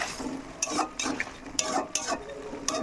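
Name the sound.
stirring fried small fish with potatoes in a pan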